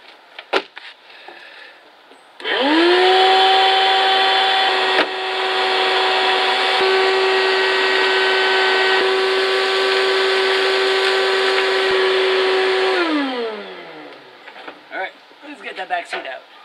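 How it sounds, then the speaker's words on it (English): A shop vacuum starts up and drones steadily for about ten seconds while cleaning out the stripped interior of a 1972 SS, its pitch dipping briefly under load before winding down; loud and close, with faint handling noises around it. "I think it's time for the vacuum and see what we got."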